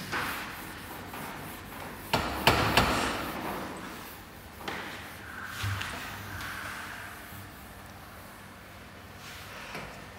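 A board is wiped clean with an eraser, giving soft rubbing strokes, a few knocks and bumps, nearby and moderately loud with no talking.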